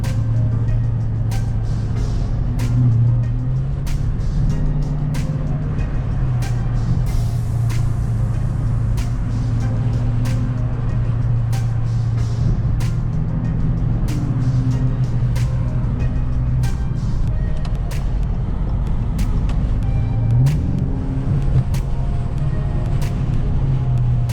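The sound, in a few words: Dodge Charger RT car driving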